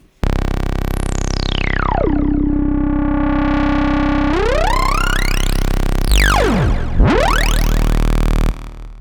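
A free software synth with a saturated analog-emulation filter sweeps dramatically, its tone gliding down, holding, then swooping up and down in gritty, distorted rises and falls, loud and continuous.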